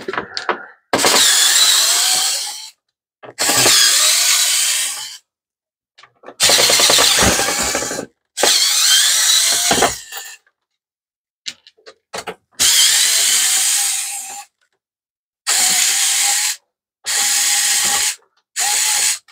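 A power drill backs screws out of a Panasonic KX-FP250 fax machine, about eight loud close whirring bursts of one to two seconds each, separated by silent gaps.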